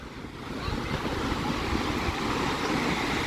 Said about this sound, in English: Yes, these waves are crazy.